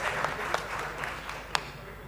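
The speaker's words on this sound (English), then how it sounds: "tentative claps?" A quiz-show audience gives a few sparse, hesitant claps, scattered individual hand slaps rising above low room noise, one sharper clap standing out near the end.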